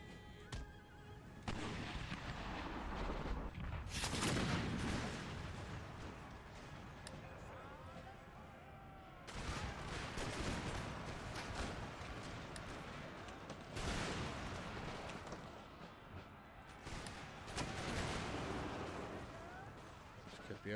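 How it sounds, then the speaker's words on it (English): Cannons fire canister shot in an Empire Total War battle, heavy booming volleys in several bursts, mixed with horse whinnies and battle din, with a voice talking over parts of it. "Canister shot, make ready"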